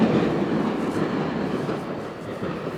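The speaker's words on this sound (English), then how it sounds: "Oh, there's my train that I was supposed to catch." A train passes through a station in Fukuoka, Japan, a steady close rumble of wheels and carriages with faint clatter, continuous and loud with no talking.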